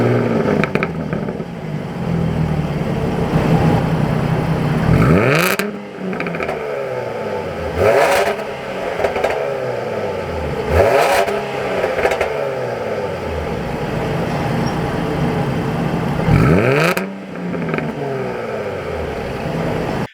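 A supercharged V6 in a 2021 Jaguar F-Type R-Dynamic revs repeatedly, with several rising and falling blips in a regular rhythm and sharp crackles between pulses, loud and close over a steady idle.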